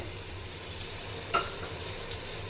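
Mutton sizzles in a pot as it is stirred, a soft continuous frying hiss broken once midway by a brief metallic clink of the spoon against the pot.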